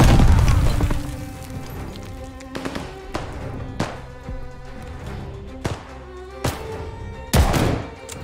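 Explosions and heavy thuds from the game Call of Duty: Vanguard boom out one after another against a rumbling wartime backdrop, starting with a big blast and followed by several sharp impacts.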